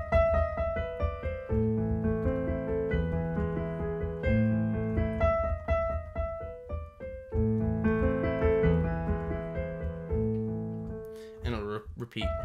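A piano plays the opening of Beethoven's Für Elise, with the familiar rocking melody over bass arpeggios, near and clear, and brief talking at the very end.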